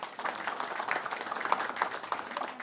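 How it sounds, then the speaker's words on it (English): Audience applause for the panelists at the close of a panel discussion at a book launch, a steady wash of many hands clapping at moderate distance, fairly quiet throughout with no voices standing out. "Round of applause for them"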